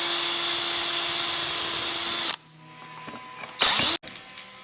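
A power drill whines loudly and steadily for a couple of seconds while pre-drilling a pilot hole in a wooden storage chest board, then stops, followed by a short second burst and light tool clatter.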